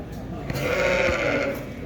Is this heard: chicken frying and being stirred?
no